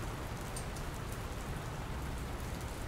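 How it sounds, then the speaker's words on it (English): Rain falling in the video game Dr. Langeskov, a steady, dense hiss of raindrops spattering on surfaces, even and unbroken throughout with no speech. "I don't think it's supposed to still be raining"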